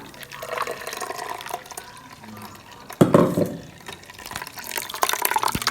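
Ground coconut being strained to extract coconut milk, with soft liquid trickling and splashing that grows into a fuller pour of liquid midway, close and alone.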